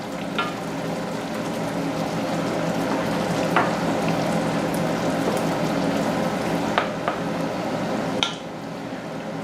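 Butter sizzles and fries steadily in a pan for pork tenderloin masala, a continuous close crackle with a few sharper pops and light clinks throughout, no voices.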